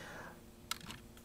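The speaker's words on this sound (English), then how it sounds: "we're going to type in" Typing on a computer keyboard to enter text into a Gravograph M20 three-axis engraving machine: a few faint, sparse key clicks over quiet room tone.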